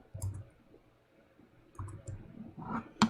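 A few sharp computer mouse clicks come one at a time with soft handling noise between them. The sound is quiet and close, with the loudest click at the end.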